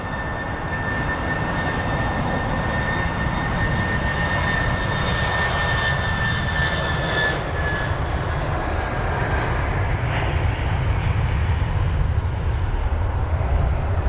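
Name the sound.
Airbus A319 airliner departing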